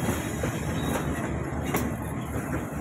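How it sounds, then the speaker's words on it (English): Shalimar passenger train, a long one, passing close near Rohri railway station on a curve, a loud steady rumble of wagons and wheels with faint clickety-clack throughout. "It's a long train."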